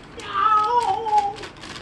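A single drawn-out meow with a gliding pitch, fairly close and clear, lasting under two seconds; it may be a person imitating a cat.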